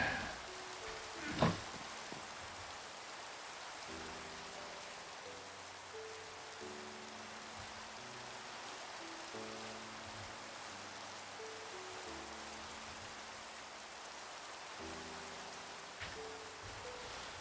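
Rain falls steadily in Minecraft, a soft even hiss throughout, with quiet musical notes drifting underneath and a brief louder knock near the start.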